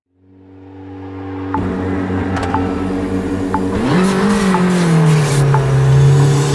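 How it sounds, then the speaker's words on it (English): A rally car in the WRC 7 video game slides on a Monte Carlo stage. Its engine drones steadily and loudly with a rising tire squeal as the car drifts, and no one speaks over it. "the car's sliding, and it's just behaving as it should"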